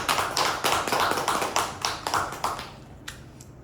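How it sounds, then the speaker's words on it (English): A small audience at a Toastmasters club meeting applauds a speaker and evaluator: a loud, dense burst of hand clapping that holds steady for several seconds, then thins to a few scattered claps at the end. "It's a round of applause to speaker and evaluator"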